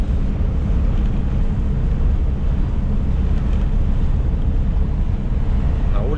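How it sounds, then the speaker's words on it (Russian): Strong, roaring hurricane-force wind buffets the microphone in a constant low rumble, gusting steadily throughout with no pauses. "Просто ураганный ветер."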